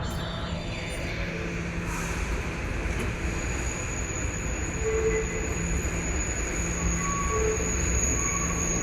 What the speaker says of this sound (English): I gotta get the shot with the D train.